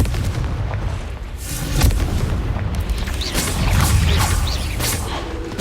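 Magical Confringo blast from Hogwarts Legacy, a string of heavy booming explosions with crackling bursts, loud and close, repeating through the span without speech.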